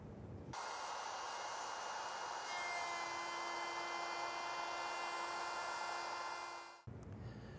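A router cutting wood for a door frame, a continuous high whining motor with a steady cutting hiss that starts abruptly, runs for several seconds and then cuts off.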